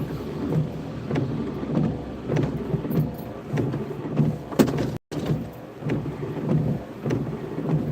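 Rain falls steadily during a ride through a Kerala village near an open gym, a hissing wash broken by repeated low thumps and knocks, with a brief dropout near the end and no voices.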